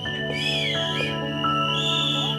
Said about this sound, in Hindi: सीटियां बजाओ प्लीज, थोड़ा सीटियां बजाओ कोई.